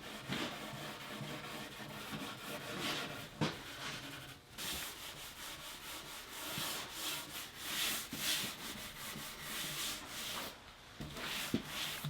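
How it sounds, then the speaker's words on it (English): A hand rubs a wood finish on a modern desk with 4-0 steel wool and wool lube paste, giving a continuous scratchy, rhythmic rubbing along the grain, close and fairly quiet, with no voices. "I'll put a little wool lube on the steel wool and then hand rub the finish in the direction of the grain."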